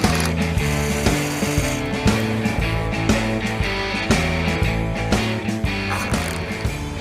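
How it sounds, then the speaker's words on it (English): Zip ties ratcheted tight on a makeshift roof during a car build, a loud, steady run of quick ratcheting clicks over several seconds with dense mechanical texture. "we can drill holes and zip tie that and we're finished"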